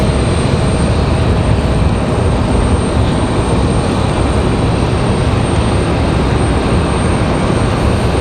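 A Delta CRJ regional jet at Raleigh Durham airport gives a loud, sustained engine roar, steady and close with no break.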